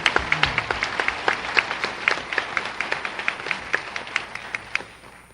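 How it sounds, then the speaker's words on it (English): A small town hall audience applauds for Keith Carson at a meeting about Iraq, sparse individual hand claps sounding close and distinct in a loose irregular rhythm, fading out toward the end. "So give Keith a round of applause."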